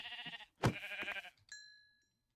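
Sheep bleating in a Minecraft-style modded chemistry game, a close wavering bleat with a brief sharper call midway, then a thin electronic tone that fades out.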